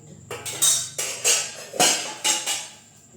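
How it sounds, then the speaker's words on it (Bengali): Milk being beaten in a bowl, about six sharp, close clinking strokes in an uneven rhythm, each ringing briefly before the next, no speech. "এটাতে একটু ফেটে দেবো দুধটা"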